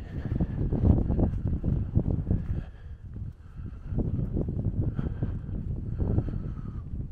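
A breezy night walk around Consett brings a steady low wind rumble on the microphone, rising and falling in gusts with a brief lull midway, no voices.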